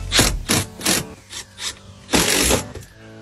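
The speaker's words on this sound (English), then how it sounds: "Now that I got the panel pushed in, I can put these screws in." Screws going into a residential electrical panel during a panel upgrade, heard as several short whirring bursts of a driver, each a second or less with brief pauses between, close and fairly loud, with no talking.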